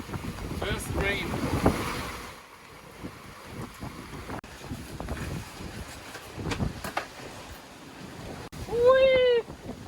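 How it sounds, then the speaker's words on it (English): Strong Atlantic wind of about 25 knots buffets a Beneteau Oceanis 393 sailboat in messy waves, with gusting roar, water rushing and splashes, scattered voices, and a brief whoop near the end. "We still have about 25 knots of wind and quite some messy waves actually."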